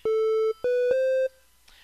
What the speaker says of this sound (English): your final waveform is the triangle wave, which is a lot like a sine wave, but it's got just a little bit of bite to it